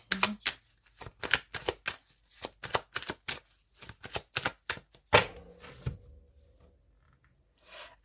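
Oracle cards are cut and shuffled in a run of crisp, rapid riffling bursts, followed by a louder slap or tap, then near silence and a brief final flick; no talking.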